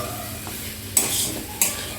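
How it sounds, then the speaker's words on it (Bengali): Fried jackfruit is stirred into a spice masala in a pan, a soft steady sizzle broken by two sharp scraping strokes of a spoon against the pan, with no talk. "ভেজে রাখা কাঁঠালটা দিয়েও সব কিছুকে একসাথে খুব ভালো করে মিশিয়ে নেব।"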